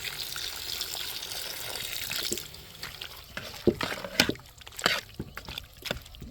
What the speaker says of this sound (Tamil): மீதி கறி வேக்காடுக்கு அளவாக தண்ணி சேர்த்துக்கிறோம்